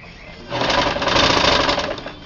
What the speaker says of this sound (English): So you're gonna roll hem your armhole.